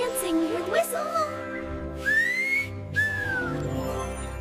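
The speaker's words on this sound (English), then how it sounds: "It's dancing with whistle." Whistling in rising and falling tones, a few short swooping phrases that sound close and clear, alternating with a voice speaking between them.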